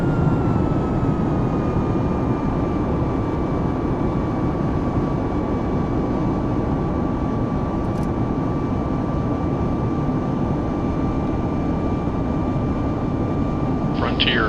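Steady, loud cabin roar of a Southwest Boeing 737 Max 8 jet airliner in flight from Chicago to Cincinnati, a constant broadband engine and air noise with a faint tonal whine, continuous throughout with no speech.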